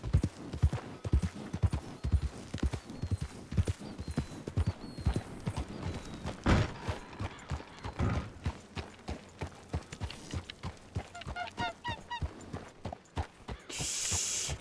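Horse hooves clip-clop steadily in a video game roleplay, with repeated close hoofbeats through most of the stretch, a brief neigh-like call near the end, and scattered game sounds.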